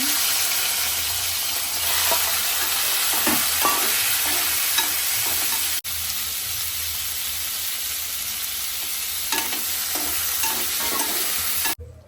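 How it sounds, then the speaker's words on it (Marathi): Turmeric-coated prawns fry loudly in hot oil, hissing steadily as they are stirred, with occasional clicks and scrapes and a brief break partway through. No one talks. "आता हे पण तेलामध्ये मस्तपैकी फ्राय करून घेणार आता हे प्रॉन्स पण टाकते"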